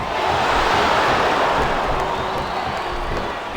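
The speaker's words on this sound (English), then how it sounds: "It sounds like this capacity crowd has something on their minds" A capacity arena crowd roars steadily in WWE SmackDown vs Raw 2007 during a tag team match, a dense, sustained wash of cheering and noise with no clear breaks.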